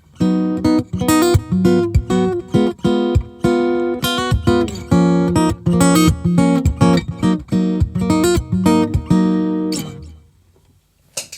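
Electric guitar playing a chordal riff with short plucked strums through a short slapback delay with zero feedback, each note followed by a quick single echo, loud and close, ending in a brief fade.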